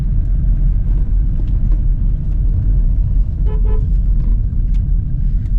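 A car drives along a foggy road at dawn, its engine a steady close rumble throughout with faint brief tonal blips and a short honk-like burst midway, no talk.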